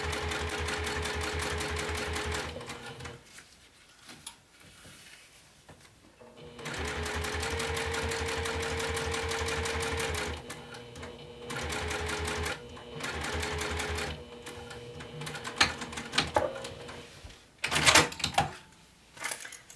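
A sewing machine top stitching crocodile faux leather at a steady stitch length, running in long fast bursts of rhythmic needle chatter separated by short pauses, close and clear with no talk over it.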